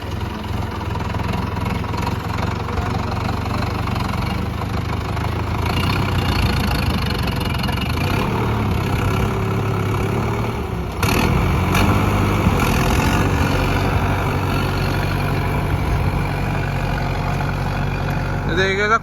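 A Sonalika 750 III tractor, rated around 70 horsepower, idles with a steady low diesel rumble that grows a little louder partway through and stays continuous, with no talking over it.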